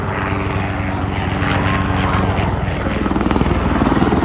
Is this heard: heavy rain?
no